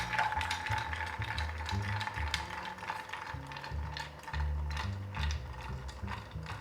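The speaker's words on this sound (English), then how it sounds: "We're going to give that a stir." Ice stirred in a glass while making a Bywater cocktail, a steady run of rapid clicking and rattling ticks that carries on for several seconds, close by and alone.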